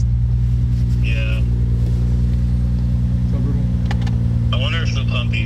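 The engine of a 90s Japanese car idling loud and close with a steady low rumble that lifts slightly as it is revved, while people talk briefly over it.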